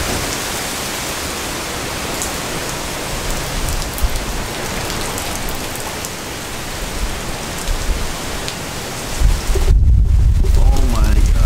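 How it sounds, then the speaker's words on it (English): A heavy rain downpour roars outside as a dense, continuous hiss, loud and close, swelling toward the end with a brief low rumble. "Oh my god, still downpouring, going crazy."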